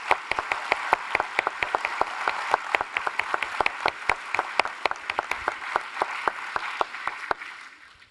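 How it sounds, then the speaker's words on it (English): Sustained audience applause for award winners at an INTA annual meeting opening ceremony, dense clapping with a few sharp near claps standing out, holding steady for several seconds then tapering off at the end. "we can give you one final round of applause"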